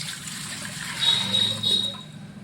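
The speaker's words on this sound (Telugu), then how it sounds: "ఆ పాత్రలో వాటర్ పోసుకోవాలి" Water pours and trickles into a cooking vessel being readied for steaming pearl millet dumplings, a faint, close, brief splashing with no talk.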